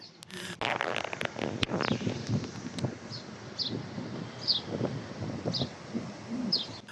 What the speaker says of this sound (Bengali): কানে ভেসে আসা পাখির মিষ্টি কিচিরমিচির শব্দ